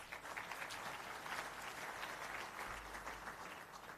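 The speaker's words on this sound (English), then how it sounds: "Je vous prie encore une fois de l'applaudir" Sustained applause from the audience at a formal conference on African infrastructure financing, even and continuous but faint and distant, with no voices over it.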